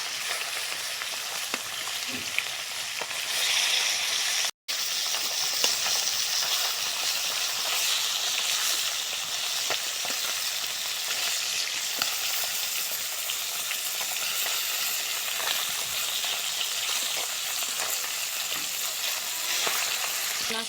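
Freshly flipped koi fish fry in a wok of oil, giving a continuous close sizzle and spitting crackle that briefly cuts out once before resuming, with no voices.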